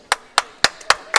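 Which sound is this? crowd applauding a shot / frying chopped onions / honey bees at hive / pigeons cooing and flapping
crowd applauding a shot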